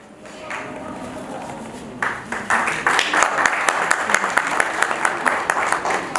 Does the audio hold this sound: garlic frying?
no